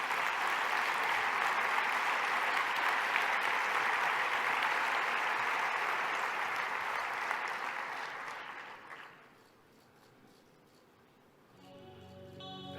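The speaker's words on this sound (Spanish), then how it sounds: "Un aplauso para Alumalsa." Loud, sustained applause greets the company Alumalsa at a business awards ceremony, then fades out, leaving near-quiet before a faint tonal sound starts at the end.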